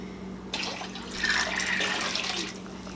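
Water pours steadily into a pot of apple juice for a turkey brine for a couple of seconds, a close, splashing rush that starts abruptly and tapers off.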